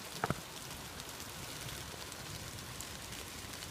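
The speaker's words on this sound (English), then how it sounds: "It's starting to rain harder now." Light rain patters steadily in the open, soft and diffuse, with a couple of brief knocks near the start.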